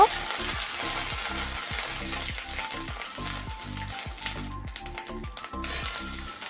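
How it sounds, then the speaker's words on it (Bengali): Bay leaves and ginger paste with whole cumin and dried red chillies fry in hot oil, a steady loud sizzle broken by rhythmic scraping strokes of a spatula stirring the pan. "দুটো তেজপাতা আর একটু আদা বাটা, সমস্ত কিছু দিয়ে এখন একটু নেড়ে নেব।"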